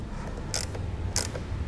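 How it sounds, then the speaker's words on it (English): A nut on a 2017 Ford Escape's battery terminal is tightened with a ratchet, giving two brief, faint bursts of clicking about half a second apart over a low steady hum. "once we have all of them in place, we'll go ahead and tighten that nut back down"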